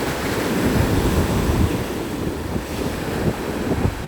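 Ocean surf breaking on a beach in Kerala, a continuous wash of crashing waves and hissing foam, loud and close, with steady wind rumble buffeting the microphone and no voices.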